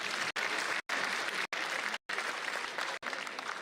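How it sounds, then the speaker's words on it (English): Audience applause at the Indo-Japan international conference, a dense burst of clapping from a seated crowd that is cut by several brief silent gaps, with no one speaking over it. "Please clap."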